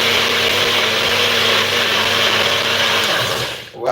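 A blender grinds beans for akara batter with a loud, steady motor whir that runs continuously, then cuts off abruptly near the end.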